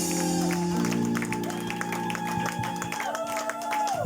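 A church congregation at a French-language worship service applauds, with steady rhythmic clapping under sustained keyboard music that fills the room.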